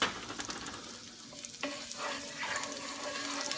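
Garlic sizzling in melted butter in a pan for shrimp fettuccine Alfredo, a soft steady hiss with faint clinks and a brief stir partway through, quiet and without speech.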